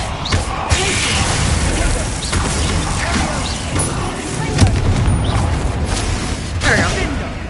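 In Hogwarts Legacy, the Confringo fire spell goes off as a series of loud, crackling booms and whooshes that fill the whole stretch, mixed with game effects and some talk.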